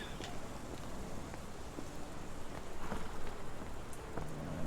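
Steady, moderate rain pattering on surfaces in the video game Sherlock Holmes The Awakened, set in London, a dense hiss with scattered drops and no voices.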